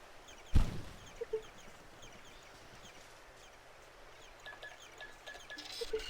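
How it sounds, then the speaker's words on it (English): Small birds chirp and cluck faintly in a sparrow forest area of the Zoo Tycoon 2 video game, with a few brief calls scattered over a soft steady ambient bed and a louder burst near the start. "So many little bird sounds."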